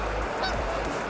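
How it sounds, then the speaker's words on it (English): Canada geese honk faintly in the distance over a constant rush of wind or water. "Some Canada geese, Canadian geese."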